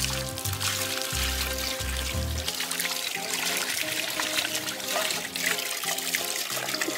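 Water poured from a container to rinse someone off outdoors by a pond, a continuous splashing and trickling stream over several seconds, fairly close, with a low rumble early on and no speech.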